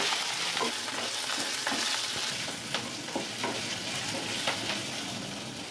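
Onion frying in a pan for sambar rice, a continuous hiss of hot oil broken by irregular soft stirring scrapes and taps, close and even, with nobody speaking.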